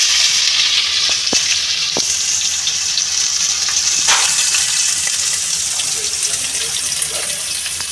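Chopped onion and two dried red chillies frying in hot oil, a loud, close, continuous sizzle with a few sharp crackles and stirring clinks, heard alone.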